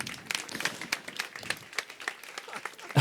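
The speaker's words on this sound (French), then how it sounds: "Vous pouvez l'applaudir encore et toujours" Audience applause for chef David Gallienne at a market cooking show, a burst of quick irregular claps from a modest crowd, moderately near, with a louder knock right at the end.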